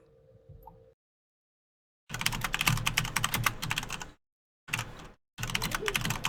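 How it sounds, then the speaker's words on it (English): Keystrokes clatter on a computer keyboard while working in a game development kit, arriving in several dense bursts of rapid typing separated by brief pauses, with a faint low hum at the start. "I'm just typing it."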